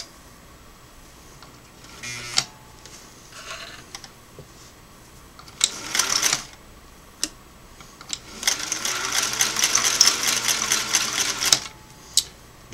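A Singer 503A twin-needle sewing machine sews a straight stitch in short bursts of rapid needle clatter, with scattered clicks and knocks between runs and a longer steady stretch near the end.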